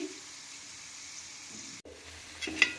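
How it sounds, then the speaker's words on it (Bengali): Slices of raw papaya deep-frying in oil give a soft, quiet sizzle, briefly broken by a sharp click and followed by a few brighter spits of bubbling oil near the end. "তো আমরা এইভাবেই সব পুরো পেঁপেটাকেই ভেজে নিচ্ছি।"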